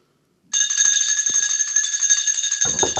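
An electric bell rings in a Victorian-era Sherlock Holmes drama, starting abruptly and sounding as a loud, continuous, steady metallic ring. Faint rustling and knocks sit beneath it until a brief clatter at the end.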